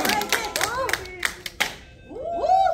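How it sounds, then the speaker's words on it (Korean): A small group gives a short burst of scattered clapping during a hangung target-throwing demonstration, then voices and a high whistling tone take over. "박수 한번 좀 크게 주세요"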